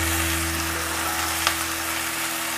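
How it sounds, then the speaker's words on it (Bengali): Pieces of ash gourd fry in oil with a constant, even sizzle and a low steady hum underneath, close by, and a single faint clink partway through. "চালকুমড়ো দিয়ে ভালো করে তেলের সঙ্গে মাখিয়ে নিতে হবে।"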